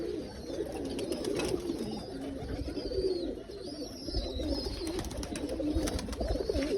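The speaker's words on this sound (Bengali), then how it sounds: "বাবু লাইনের একটা বাচ্চা কবুতর" Young pigeons coo steadily in a loft, with soft overlapping throaty calls over a constant low rumble of background noise.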